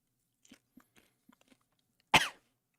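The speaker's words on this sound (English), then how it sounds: "Cough, cough." A single sharp, close cough bursts out near the end, preceded by a few faint soft ticks and rustles in an otherwise quiet room.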